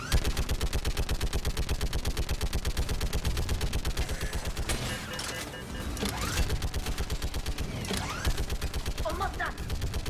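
Rapid automatic gunfire from Mass Effect 3 rattles on in long sustained bursts, loud and close, with short pauses and a character's voice briefly breaking in.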